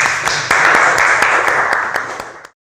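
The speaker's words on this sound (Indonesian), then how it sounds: "Tepuk tangan untuk temannya." Students in a classroom clap for a classmate, a dense burst of many hands that stays steady for about two seconds, then tapers off and stops.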